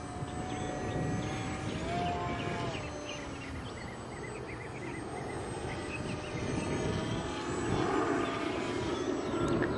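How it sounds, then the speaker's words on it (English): A HobbyKing Extra 260 RC model airplane flies overhead on its maiden flight, its motor a continuous whining drone that swells and fades slightly, heard from a distance outdoors with no talk. "Sounds like a jet."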